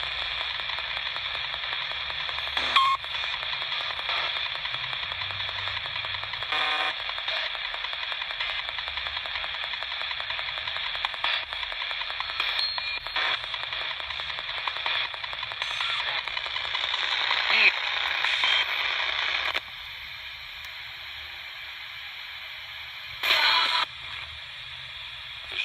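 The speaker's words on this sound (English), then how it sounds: "Can you use the energy in the radio, the white noise and the voices to say what you need to say to me?" Ghost box radio sweeping through white noise static, a steady hiss with brief crackles and choppy bursts running throughout, dropping in level near the end, with faint fragments of voices mixed in.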